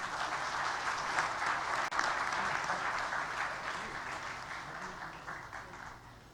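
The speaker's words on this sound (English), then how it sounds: "Let's welcome him with a huge round of applause, ladies and gentlemen." Audience at the Himalayan Travel Mart 2019 inauguration ceremony welcomes Nepal's Prime Minister with steady, dense applause that stays loud throughout and eases slightly toward the end.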